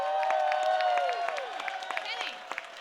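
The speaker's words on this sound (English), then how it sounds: "I want everyone to stand up and just scream as loud as you can and clap" A conference audience at a startup weekend winners' event in Pittsburgh claps and cheers, a dense wash of applause and shouting, with a voice calling out over the crowd near the start.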